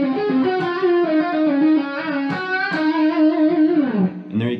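Bluesy electric guitar lick in a blues rock style, with string bends and smooth legato phrasing through a distorted, effected tone, playing continuously and up close with no talking.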